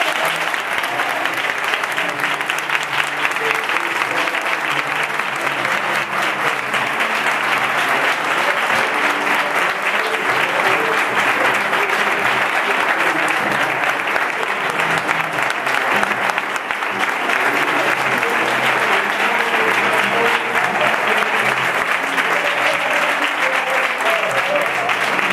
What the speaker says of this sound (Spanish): este aplauso va para él